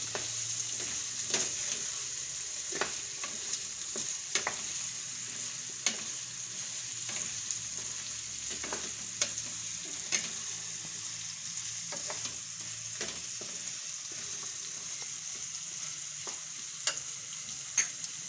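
Stuffed chibhada curry stirred and frying in a pan, a steady soft sizzle broken by regular scraping clicks of the spoon every second or so, close and fairly quiet, with no voices.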